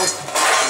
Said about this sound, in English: hammer and chisel